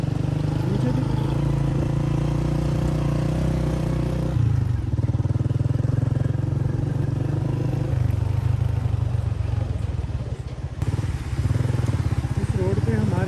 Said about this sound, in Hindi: अली बाइक राइट साइड पे चलाते हैं खाई के बिल्कुल साथ साथ